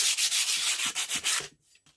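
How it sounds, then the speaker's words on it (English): Sandpaper rubbed by hand over an axe head during restoration, rapid back-and-forth rasping strokes in a steady rhythm, close and clear, stopping abruptly after about a second and a half. "that's what I'm going to do for the sanding"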